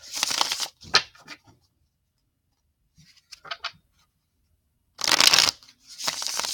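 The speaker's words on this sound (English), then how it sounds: "Spread these out. This is Mystic Moon Twin Flame Oracle cards." A deck of Mystic Moon Twin Flame Oracle cards being shuffled, with crisp riffling bursts close up, quieter flicks in between, and a pause before another loud shuffle.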